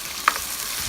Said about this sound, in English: You can hear a nice sizzle